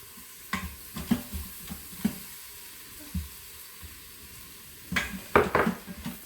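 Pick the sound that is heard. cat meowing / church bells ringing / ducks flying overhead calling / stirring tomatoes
stirring tomatoes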